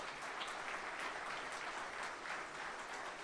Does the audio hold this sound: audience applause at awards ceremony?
yes